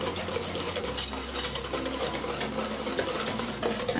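Buttermilk pie filling being stirred in a bowl, a continuous soft scraping and swishing with faint clinks of the utensil against the bowl, close and unaccompanied by talk.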